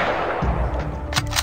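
Gunshots in the video game Tactical Assassin 2, a couple of loud muffled booms over a dense game backdrop within about a second and a half.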